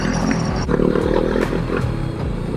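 Overheating motorcycle engine, coolant temperature running high, idling roughly with an uneven, lumpy low rumble and irregular surges, close and fairly loud, no talk.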